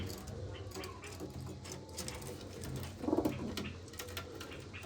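Pigeons coo softly in the background, with one low, throaty burst standing out briefly amid a muffled ambient hum.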